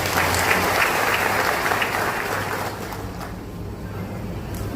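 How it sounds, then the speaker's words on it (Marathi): A hall full of people at a birthday felicitation event claps loudly and continuously, the applause thinning and fading toward the end. "हो त्याच्यासाठी टाळ्या वाजवा."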